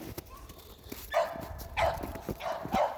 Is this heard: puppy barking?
yes